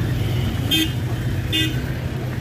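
On a busy city street thick with cars and pedestrians, a steady rumble of traffic runs throughout, cut by two short car-horn toots about a second apart, faint talk mixed into the background.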